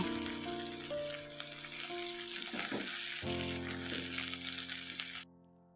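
Beans and vegetables fry in hot oil in a pan for a mixed bean, lentil and potato dish, a steady loud sizzle with occasional stirring rattles, cutting off abruptly near the end.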